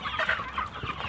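Several chickens cluck and chatter together, close by, in a busy overlapping flurry of short calls.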